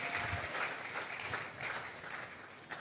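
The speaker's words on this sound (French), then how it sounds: "Acclamons très fort pour le roi de." A church congregation claps and cheers for the king during a sermon, a sustained wash of applause at moderate distance with rising and falling swells.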